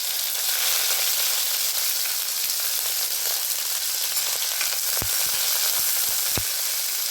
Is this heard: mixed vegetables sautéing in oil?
yes